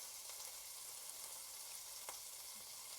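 Eggs frying in a hot egg pan give off a steady, even sizzle and hiss that runs the whole time, with a couple of faint ticks and pops and no talking.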